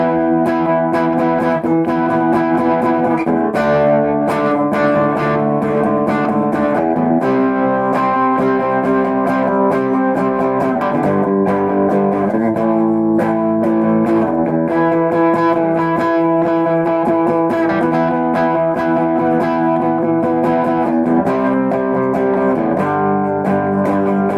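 A Squier Paranormal Series Toronado electric guitar on its bridge pickup plays a clean tone through a YCV40 amp, with ringing chords and melodic lines flowing continuously and loudly throughout.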